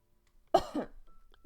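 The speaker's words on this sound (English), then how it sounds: "Sorry, had to cough." A single sharp cough, close and fairly loud, followed by a short throat-clearing rasp in an otherwise quiet room.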